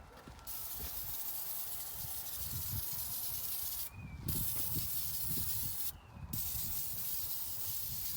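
Aerosol degreaser hisses from a can onto a dismantled Massey 1105 tractor in a driveway, a continuous spray broken by two short pauses, with low clattering and rumble underneath.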